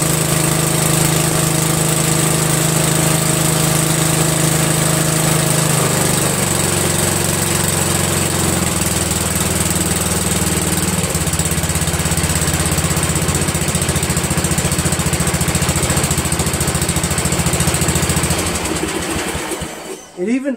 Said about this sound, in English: It even idles great